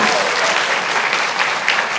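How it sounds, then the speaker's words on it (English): Loud, dense audience applause at a continuing education achievement ceremony, honoring graduate Genesis Lopez; a close, steady wash of many hands clapping with no voices. "give everyone a round of applause for Genesis"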